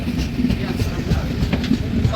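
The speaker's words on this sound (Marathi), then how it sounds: "आता मी ट्रेनमध्ये बसलो आहे." A Jan Shatabdi passenger train heard from inside a coach while running: a steady, fairly loud low rumble with faint irregular wheel clicks throughout, and no talk.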